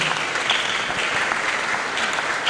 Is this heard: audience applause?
yes